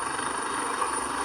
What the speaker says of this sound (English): That's the helicopter landing at Orifite.